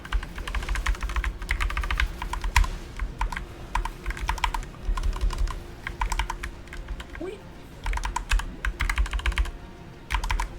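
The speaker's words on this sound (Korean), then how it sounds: "보스를 잡을 때 키보드 소리가 굉장히 많이 나면은 되게 잘하는 것처럼 보입니다" Rapid, clattering keyboard typing in dense bursts with short pauses, close and fairly loud, over a low steady background hum, during a MapleStory boss fight against Damien.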